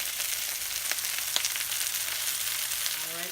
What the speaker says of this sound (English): frying up just a bit in the bacon fat